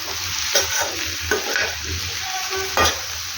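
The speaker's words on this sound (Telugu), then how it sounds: "వేసుకొని బాగా మిక్స్ చేసుకుందాం." Spoon stirring mushroom pepper fry in a pan with freshly ground pepper, fennel and cumin, the food sizzling steadily underneath while a few sharper scrapes break through at intervals; close and moderately loud, no talking.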